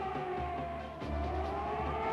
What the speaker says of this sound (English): Now the sirens are sounding for the first time.